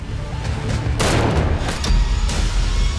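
A gunshot to the head in a Korean TV drama, a sharp loud crack with a burst of noise about one second in, over a dense music-and-effects bed with further booming hits following.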